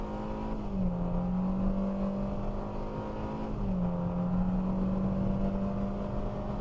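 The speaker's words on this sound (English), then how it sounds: "The engine is very loud." A loud 2023 Hyundai Venue SEL engine pulls hard through two gears, the steady roar dipping briefly at a shift before climbing again, close and continuous.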